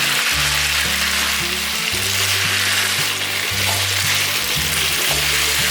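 Green beans stir-frying in a wok with cabbage and shiitake mushrooms for a vegan home-style dish, giving a loud, steady, close sizzle that runs throughout over soft background music.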